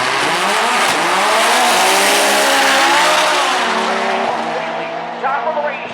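Nissan GT-R drag car launching at Maryland International Raceway, a loud sustained engine scream with rising pitch as it pulls away, fading slightly toward the end.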